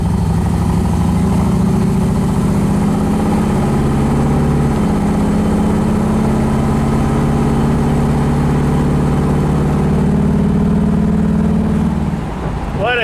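A 1968 Chevrolet Camaro idling, a steady low rumble with a smooth, even pulse that holds loud and close for the whole stretch before dipping slightly at the end.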